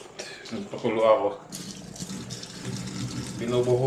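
Hot water poured from a freshly boiled kettle into a container, a steady splashing trickle close by, with a person talking over it in Tagalog.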